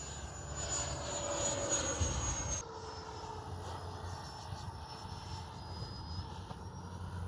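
A Freewing 80mm F-22 Raptor RC jet flies steadily overhead, its ducted-fan whine holding a loud, sustained roar that eases slightly partway through as the jet moves off.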